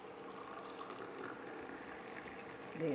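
Strong cardamom tea being poured into a glass, a quiet, steady liquid trickle lasting a few seconds, close by and alone.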